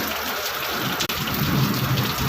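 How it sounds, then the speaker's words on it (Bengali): Heavy rain pours down hard, a loud, dense, constant roar of water with a brief dropout partway through and no voices. "তো দেখতেই পাচ্ছ ঝমঝমিয়ে বৃষ্টি পড়ছে, ঝমঝমিয়ে বৃষ্টি পড়ছে, প্রচুর বৃষ্টি পড়ছে।"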